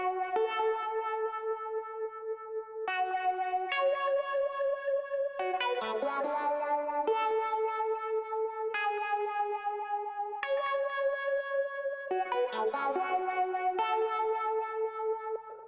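A clean electric guitar plays a slow repeating melodic phrase, its tone swept and colored by a wah effect, with sustained notes and echoing chords.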